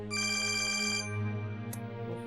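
A phone rings with a bright electronic ringtone, a sustained tonal chime that sounds close and clear, with no talking over it.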